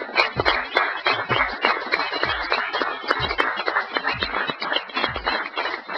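An audience claps for the models at a small organic fashion show, with scattered, uneven handclaps running steadily throughout and voices chattering underneath.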